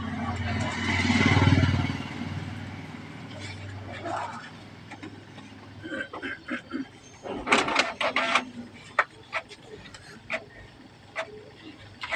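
A wedding card printing machine runs on 400 gram box board, with a swelling mechanical whir early on followed by quieter clicks and sharp rhythmic clacks; a person talks nearby at times.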